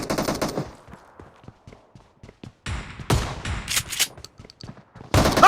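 Bursts of gunfire in a shooter video game, with a rapid opening volley, scattered single shots and thumps, then heavier sustained fire midway and a loud final burst, all close and without speech.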